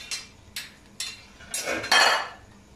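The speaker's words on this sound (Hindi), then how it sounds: "अब ढक्कन उठाकर देख लेते हैं" A metal lid knocks against a cooking pot of braised beef boti, with a few sharp clinks at regular intervals and then a louder, longer clatter as the lid comes off, heard up close.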